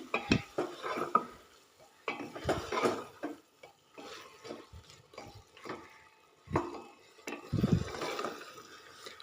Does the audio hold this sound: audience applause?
no